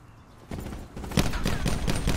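Rapid bursts of gunfire in a Gun Game round of a video game, loud and close, firing in quick repeated clusters with a steady rhythm.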